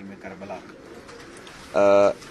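Pigeons cooing on a rooftop: a soft, low coo early on, then one louder, close, sustained coo near the end, over quiet background ambience.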